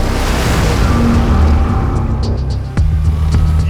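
Artificial ocean waves made for filming a boat scene, a loud, continuous wash of surf with low rumble, steady and close, with a sudden thud near the end.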